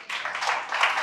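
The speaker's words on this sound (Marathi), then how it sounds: "प्रीतमसाठी टाळ्या झाल्या पाहिजे" Brief burst of classroom applause for a student during a Marathi language week activity, a dense patter of many hands clapping close by and fairly loud, without speech.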